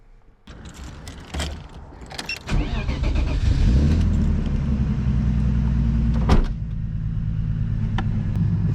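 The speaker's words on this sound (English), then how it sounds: "start the car, see how the exhaust sounds," A turbocharged BMW E36 cranks and fires up, then settles into a loud, rumbling idle through its exhaust, with a brief blip of revs near the end; clicks and rattles come before the start.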